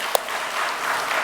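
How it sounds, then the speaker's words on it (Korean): Church congregation clapping in a steady, even wash of applause with one sharper clap near the start, moderately loud and without voices. "이렇게 영광의 박수 돌리겠습니다."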